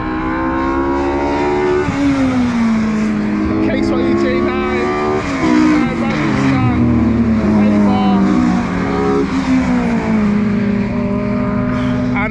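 A Renault Clio and a Turbo Technics Ford Fiesta race cars run at an Anglesey time attack qualifying session, engines droning and shifting pitch as they accelerate and change gear, loud and continuous, with a commentator talking throughout.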